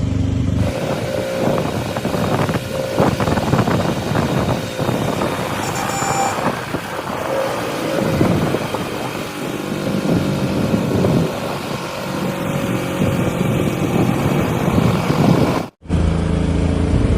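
A steady auto rickshaw engine drones throughout while riding, with wind buffeting and rattling over it, ending in a brief dropout.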